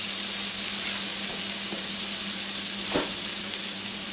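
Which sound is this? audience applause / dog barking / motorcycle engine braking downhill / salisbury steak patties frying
salisbury steak patties frying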